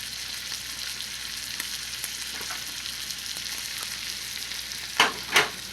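A steak fries in a hot pan with a steady sizzle throughout, with faint stirring or utensil movement, then two louder sizzling bursts near the end as the steak is basted.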